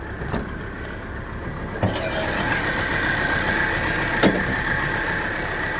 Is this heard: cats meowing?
no